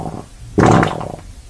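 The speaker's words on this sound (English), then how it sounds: "shall preview the farting sound effect" A single wet, rasping fart sound effect lasts about half a second, loud and close, over a faint background.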